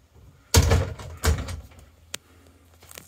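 A wardrobe door in a 2018 Swift Conqueror 480 caravan is opened, giving two hollow knocking thuds close by, then a brief click and faint rattle.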